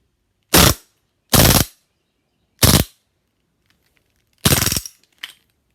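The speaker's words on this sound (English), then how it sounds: "Check this bolt and see how fast this thing fires" An old-school CO2 airsoft gun firing, heard as four loud, sharp, close bursts of quick shots with short gaps between them, then a final short faint pop.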